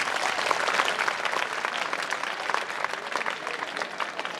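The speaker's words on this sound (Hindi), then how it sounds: "एक अच्छा इंसान बनने के लिए जोरदार ताली बजाओ।" Loud, sustained clapping from a school alumni meet audience at Jawahar Navodaya Vidyalaya Mandsaur, a dense continuous roar of hands at steady intensity throughout.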